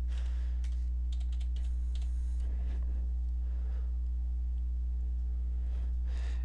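Bursts of computer keyboard typing, clustered keystrokes early on then sparser taps, over a steady electrical hum while writing a Hamming code program.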